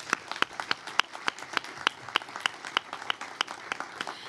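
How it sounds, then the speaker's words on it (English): Applause at a press conference announcing a new soccer club, a small group clapping with distinct sharp claps in a loose rhythm, near and fairly sparse, with no talk. "So let's give another round of applause"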